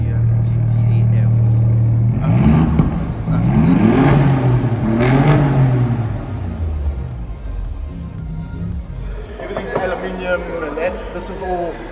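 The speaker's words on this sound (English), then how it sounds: "Listen to that Alfa Romeo Giulia GTAM." Alfa Romeo Giulia GTAM engine revving at an indoor showroom, loud rising and falling revs with a deep rumble, mixed with people talking nearby.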